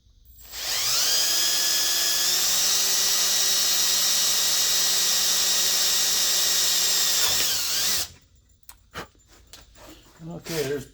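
A power drill whines loudly and steadily for about seven seconds boring a pilot hole, then stops, followed by a few short clicks and handling noises.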